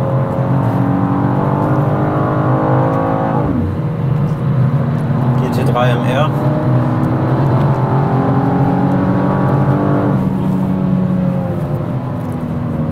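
A 2023 BMW M2 engine accelerates hard on the Nordschleife, a loud steady drone rising in pitch through repeated gear changes, with someone talking over it throughout.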